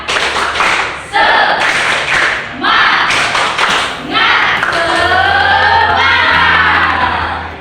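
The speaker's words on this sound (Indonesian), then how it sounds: "Tepuk semangat" A classroom group performs a rhythmic spirit clap, with loud bursts of unison clapping and chanting voices close by, followed by sustained shouting and cheering.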